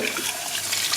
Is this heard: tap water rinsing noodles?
yes